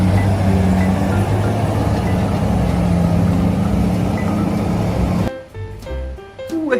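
RC mining truck engine running, a dense close mechanical whirring and grinding with a low hum that holds steadily, then cuts off abruptly into quieter, sparse clicks and knocks near the end.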